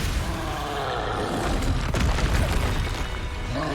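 Bombarda explosion spell going off during a Hogwarts Legacy combat sequence, a dense booming burst that swells around the middle and lingers as a broad, steady rumble with scattered crackles, no voices over it.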